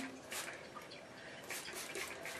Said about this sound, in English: I'm going to spray my hair